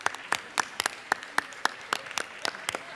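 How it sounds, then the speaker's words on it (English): Sparse, slow applause rings out in a state Capitol chamber, a few distinct, evenly spaced claps, fairly faint and echoing, with no talk over them. "Give them a round of applause."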